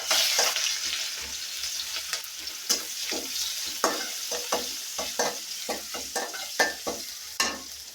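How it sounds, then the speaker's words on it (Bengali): Chopped onion fries in hot oil with a constant crackling sizzle. Repeated scraping strokes of a spatula stir it at an irregular, fairly quick pace, close and clear, with no talk. "পেঁয়াজ কুচিটা দিয়ে দিলাম ওই তেলের মধ্যে।"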